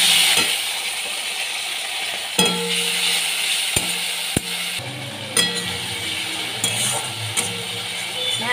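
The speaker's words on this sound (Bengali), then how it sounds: "ভালো করে আমি কষিয়ে দিচ্ছি।" Fish curry with ginger and a splash of water being stirred and sautéed in a pan, a steady close sizzle broken by sharp scrapes and clinks of the spoon against the pan.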